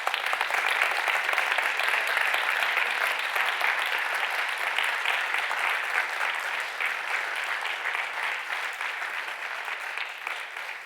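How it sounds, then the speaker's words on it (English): Audience applause fills a conference hall at a Berlin summit awards ceremony as five finalists come to the stage, steady dense clapping throughout that tapers slightly toward the end. "Give them a round of applause."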